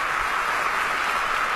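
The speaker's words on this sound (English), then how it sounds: "I want to have a big round of applause" Sustained, dense applause from an awards-ceremony audience at the SAG Awards, steady and fairly loud throughout, with no talking over it.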